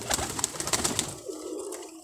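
A pigeon coos on a rooftop, a few soft low calls drifting over faint background noise with brief sharp high sounds early on.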